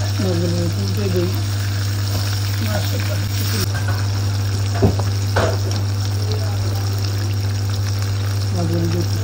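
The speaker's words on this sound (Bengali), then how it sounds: "মাছগুলো একটু সুন্দর করে ফ্রাই করে মাছগুলো আমার ফ্রাই হয়ে গেছে" Rohu fish pieces frying in hot oil give a steady close sizzle with a few scraping turns, over a constant low hum, with no talk.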